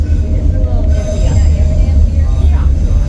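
The White Pass train rumbles steadily along its mountain railway with a constant low roar, wheels faintly squealing on the rails, the noise continuous and close throughout.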